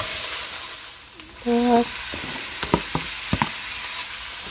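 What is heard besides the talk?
onion frying in a pan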